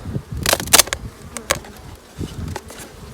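Honeybees from a swarm buzzing around hive frames, close, intermittent buzzing bursts with handling clicks between them, no talking.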